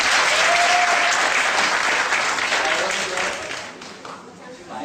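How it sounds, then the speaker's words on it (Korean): A church festival audience applauds visitors from Korea, dense and sustained clapping filling the hall before it thins and fades near the end, with voices over it. "우리 박수 한번 쳐주십시오."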